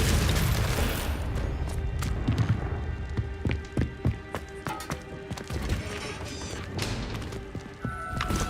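A fiery blast spell in the Hogwarts Legacy game, heard as several sharp booming bursts and impacts over a dense layer of game effects and music, spaced irregularly through the stretch.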